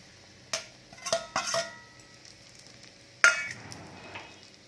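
Grated coconut dry-roasting in a pan for a spicy green chilli kharda, stirred with a utensil: scattered scrapes and light metallic clinks in short clusters over a faint, quiet sizzle, with a sharper scrape near the end.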